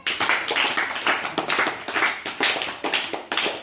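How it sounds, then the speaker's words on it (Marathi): A group of people clap for themselves in a quick, irregular burst of hand claps, fairly close and bright, with no talk over it. "स्वतःसाठी टाळ्या वाजवा"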